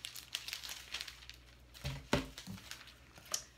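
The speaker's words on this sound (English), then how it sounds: "lay it on top of a piece of cellophane. And then you're going to just cut about an inch around that." Scissors cutting through a sheet of cellophane for a cake box window, giving a few soft crinkling snips and rustles, quiet and close, with a sharper crackle in the middle.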